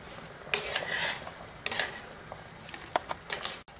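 A pot of Spanish chickpea and cabbage stew with pork ribs is stirred, giving scattered utensil scrapes and soft clinks against the pot in a quiet kitchen, with no voices.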